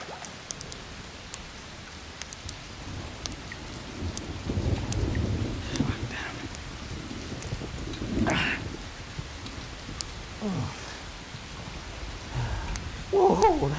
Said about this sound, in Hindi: आज बारिश होगी